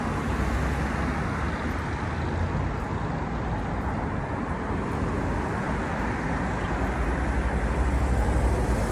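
Vehicles passing along a road in the UAE, a constant, loud, broad traffic roar with no distinct gaps between passes, heard from the roadside without speech.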